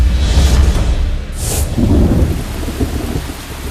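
Heavy typhoon rain pours steadily over Luzon during a volcanic eruption, with deep rolling thunder rumbling through the downpour and a brief sharp hiss partway through.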